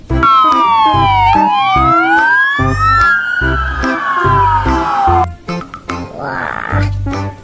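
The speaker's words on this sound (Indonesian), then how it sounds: "Di sini teman-teman ada mobil polisi lagi." Police car siren wailing loudly and close, its rising and falling tone sweeping over a background of rumbling street traffic, then cutting away into quieter road noise near the end.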